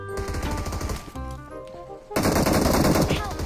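Rapid automatic gunfire in PUBG Mobile, loud continuous bursts with a brief lull before a heavier stretch of firing.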